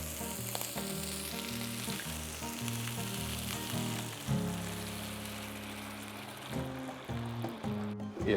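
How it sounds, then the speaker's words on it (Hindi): Water poured into a hot pan of sautéed red chili, basil and oregano sets off a loud, continuous hissing sizzle that surges midway and then settles, close and unbroken by talk. "और इसमें ऐड करते हैं थोड़ा सा पानी।"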